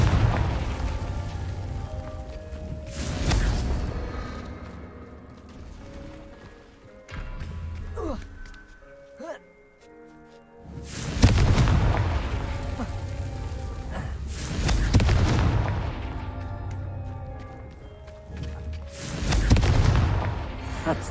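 Repeated Confringo fire-spell explosions from the game Hogwarts Legacy, loud booming blasts bursting out in several waves with rumbling decay between them and a quieter stretch in the middle, with no talk over them.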